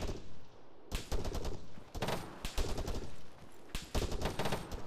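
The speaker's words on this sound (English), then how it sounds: "I think they have some kind of fucking automatic grenade launcher" Heavy automatic weapon fire from the video game Arma 3, a grenade launcher pounding out repeated loud bursts of rapid booming shots with brief pauses between volleys.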